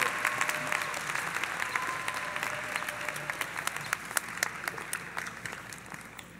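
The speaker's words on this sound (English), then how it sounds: "Let's give Father McShane a super special round of applause." Graduation ceremony audience applauding steadily, a dense patter of clapping from a large crowd that holds at moderate loudness throughout.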